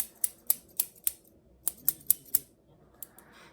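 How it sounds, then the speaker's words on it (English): Texturizing shears snipping in the air, about ten sharp metallic clicks in a quick, fairly even rhythm, close and crisp, then a softer rustle at the end. "The texture shears."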